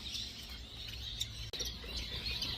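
Small finches, including star, long-tailed, zebra finches and African silverbills, chirp in high, faint, steady twitters at a breeding farm in Bangkok, with a short break midway.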